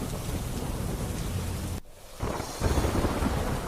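Heavy monsoon rain pours in a dense hiss, broken by a sudden drop and then a loud rolling thunder rumble that swells back under the downpour, with no voices.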